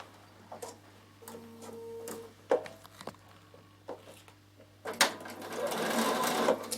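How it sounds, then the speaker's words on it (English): Sewing machine straight stitching the edges of a travel pouch, short start-stop runs of rapid ticking stitches between quiet pauses and handling clicks, ending in a longer steadier burst of stitching. "I'm just going to straight stitch them together"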